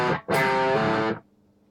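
Distorted electric guitar playing a slow riff phrase: a short picked note, then a loud sustained chord-like tone with hammered pitch change, cut off abruptly into quiet amp hiss.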